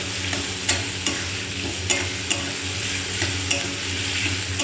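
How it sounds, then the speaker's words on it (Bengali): Potatoes sizzle and fry in a pan with salt and turmeric, with a steady crackling hiss and regular scraping stirs at close range and no talking. "এবার আলুটাকে ভেজে নেব।"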